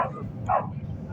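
A dog gives a short burst of yipping barks in the middle, moderately close, over a steady low background rumble and murmur.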